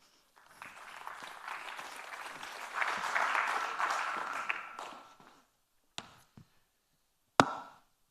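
Audience applause in a conference hall after a speaker is introduced, steady clapping rising for about five seconds then fading, followed by a couple of sharp isolated bumps like a microphone being handled.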